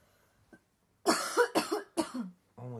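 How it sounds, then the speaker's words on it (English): A burst of harsh, close coughs, several in quick succession, follows a faint quiet start, then a voice begins speaking. "would you ever stop coughing?"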